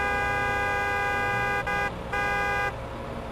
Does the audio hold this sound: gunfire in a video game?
no